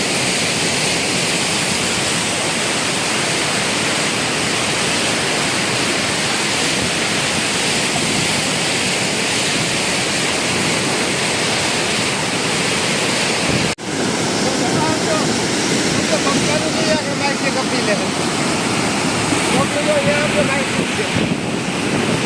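Steady rushing surf of sea waves with wind buffeting the microphone, continuous and fairly loud throughout, with a brief dropout partway.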